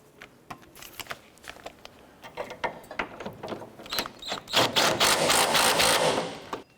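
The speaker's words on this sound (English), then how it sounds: "Let's go ahead and tighten down our upper bolt now." The upper engine mount bolt on a 2008-2012 Honda Accord is tightened with a ratchet. Rapid, irregular clicking and metallic ticks come close up, then build into a denser burst of ratcheting near the end.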